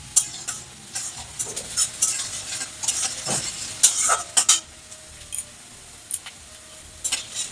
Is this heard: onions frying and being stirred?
yes